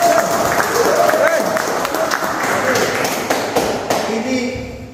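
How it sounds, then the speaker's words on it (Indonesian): A lecture audience at a Poltekad teaching session applauds, a dense wash of clapping with scattered louder claps, fading slightly toward the end, with some faint voices underneath. "tepuk tangan."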